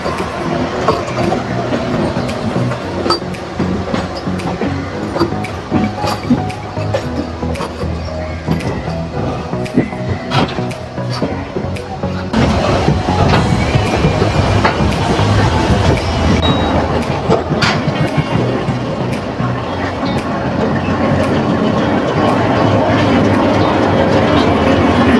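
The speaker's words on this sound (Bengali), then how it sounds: "এইদিকে হচ্ছে এখন গয়া বন্দে ভারত এক্সপ্রেস ঢুকছে প্ল্যাটফর্মে।" The Gaya Vande Bharat Express rolls into a station platform with a steady rumble and rhythmic clickety-clack of wheels, growing louder and denser midway as the train draws nearer, with faint station ambience around it.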